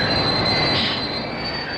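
A railway mail car rolls along the tracks, a steady close rumble of train wheels with a high squeal held throughout, no talk over it.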